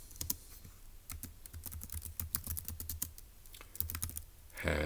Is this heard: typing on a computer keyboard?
yes